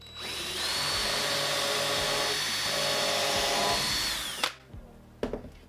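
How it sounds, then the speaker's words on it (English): A power drill whines steadily at high speed for about four seconds while drilling through wood, then stops, followed by a couple of brief knocks and clatters. "Drill the hole through the hole that you already have"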